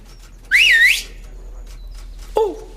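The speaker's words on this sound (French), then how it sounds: "J'ai entendu un coup de sifflet." Two short, bright whistle blasts sound nearby, the first a rising and falling trill lasting about half a second, the second a brief lower tone near the end.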